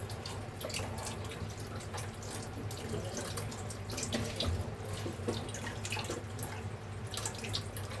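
A tap runs steadily into a sink as fish is rinsed beneath it in a fine strainer, with water splashing throughout.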